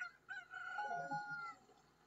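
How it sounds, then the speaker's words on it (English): A chicken clucks and crows in Ocarina of Time, a single close, drawn-out call with wavering tone rising and fading over about two seconds. "Where's the chicken? I hear the chicken."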